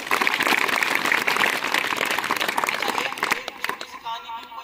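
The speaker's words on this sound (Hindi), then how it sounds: "तालियां बजाएं बच्चों" Children clap together during a legal literacy and sensitivity program at Gyandeep AB Academy school in Thanagazi, a dense burst of applause for about three seconds that thins out toward the end as other sounds take over.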